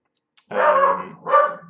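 A dog barks twice nearby, loud and sharp, with a brief click just before the first bark; no talk over it.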